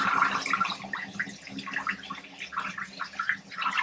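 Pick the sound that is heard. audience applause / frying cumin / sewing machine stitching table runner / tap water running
tap water running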